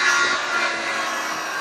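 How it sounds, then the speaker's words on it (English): A corded power saw rips through plywood, giving a continuous bright, noisy cutting whine close by that stays steady for the whole short stretch. "And then if you bring up the corded saw, we'll cut up here."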